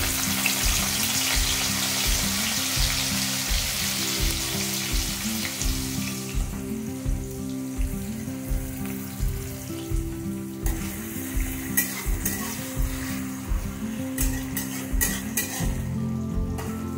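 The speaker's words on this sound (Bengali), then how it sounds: "এবার কুচানো পেঁয়াজগুলো দিয়ে দেবো।" Chopped onions sizzle and fry in a pan while being stirred, a steady close crackle with regular scraping and clinking of a utensil against the pan throughout, no voices.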